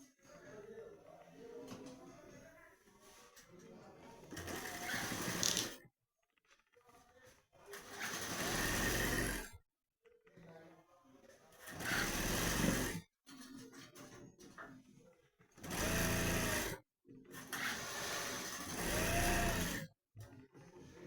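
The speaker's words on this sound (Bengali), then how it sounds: "এই মুড়ে মেশিন সেলাই দিয়ে রাখলাম একটু বড় টোপে" A tailor's sewing machine stitches a folded hem in several loud, steady mechanical runs of a few seconds each, with short pauses and some talk in between.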